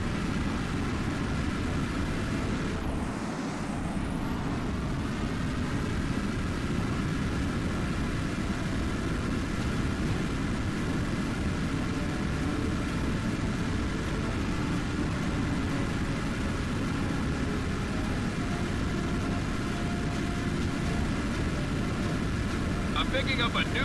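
Fighter jet engine roar from the Tom Clancy's H.A.W.X flight combat game, a steady loud broadband drone throughout with a brief whooshing pass early on.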